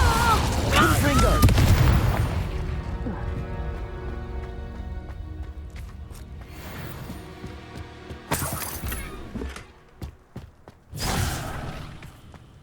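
Spell blasts from Hogwarts Legacy, Confringo and Incendio, burst out as booming, crackling explosions and whooshes, one loud and sustained at the start, then sharper bursts later, with a voice speaking over parts of the action.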